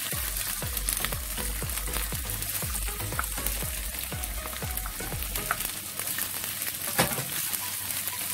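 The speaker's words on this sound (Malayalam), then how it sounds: "ഇനി അതിലേക്ക് ഞാൻ പാവയ്ക്ക വറുക്കാനായിട്ട് ഇട്ട് കൊടുക്കുക" A cup of bitter gourd frying in hot oil, giving a dense, steady crackling sizzle with repeated stirring scrapes and clinks in the first several seconds, close by and without talk.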